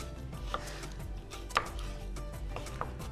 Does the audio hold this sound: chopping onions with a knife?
yes